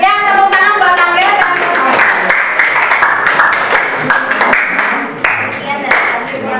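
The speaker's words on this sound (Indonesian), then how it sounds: "tepuk tangan" A classroom audience claps enthusiastically after a group presentation, brisk, bright hand claps close by, with chatter and a few voices mixed in throughout.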